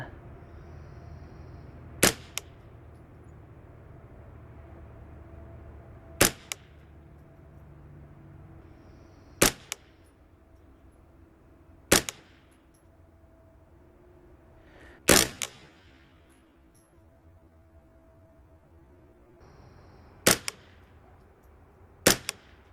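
An AR-style .22 LR rifle fires at targets 400 yards away outdoors: seven sharp, loud single cracks spaced several seconds apart, a few followed by faint distant echoes or impacts, over a low background hum.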